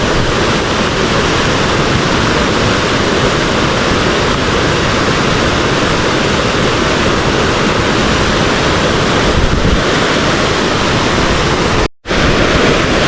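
Steady, roaring rush of a forest waterfall, loud and continuous with no pauses, cutting off abruptly near the end.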